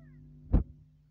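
A single short cat meow, close and fairly loud, rising briefly over a low steady background hum and then fading.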